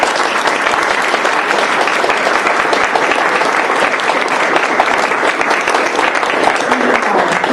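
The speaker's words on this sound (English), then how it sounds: "Please join me in a round of applause" An audience at a US House briefing applauds in a loud, steady round of clapping that stays dense and continuous from start to end, with no talk over it.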